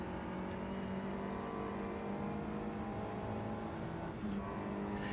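A Mini touring car engine drones steadily in the racing game Automobilista 2, a faint, even, sustained hum with little change in pitch and no talking.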